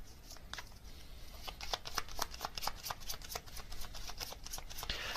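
A tarot deck is shuffled close up to draw a card: a steady run of crisp riffling flicks over a soft hiss, with no voice.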